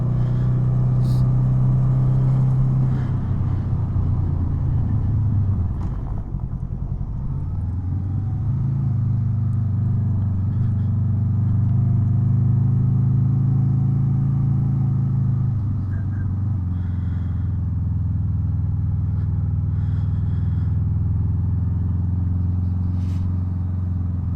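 A motorcycle engine hums steadily while riding a mountain road near Washington Pass, a low droning rumble with brief shifts in pitch as the bike slows and picks up again, close and continuous.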